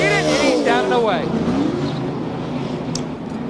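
Dale Earnhardt Jr.'s race car at the 2004 Food City 500 accelerating hard out of its pit stall after a left-side tire change with no fuel, a loud rising engine sweep that fades as it pulls away, under crowd noise and commentary.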